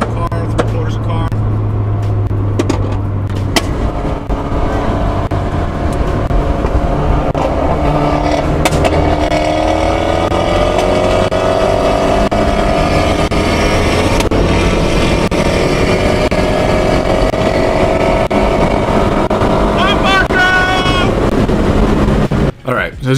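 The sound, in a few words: Fiat 124 Spider Abarth engine during dyno pulls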